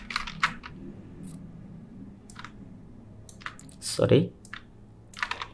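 Scattered keystrokes on a computer keyboard while typing text in Adobe Illustrator: sparse, close clicks in small bursts, with a brief spoken word and a louder thump near the end.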